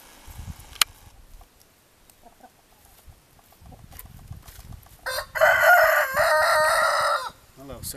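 Backyard chickens being fed old arugula leaves, with scattered soft clucks and then a loud, close rooster crow lasting about two seconds.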